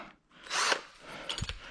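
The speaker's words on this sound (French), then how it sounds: "ta jeune perceuse Lidl" A cheap Lidl power drill, about 60 euros, whirs in short bursts up close, with a brief rev followed by a few scraping, knocking touches.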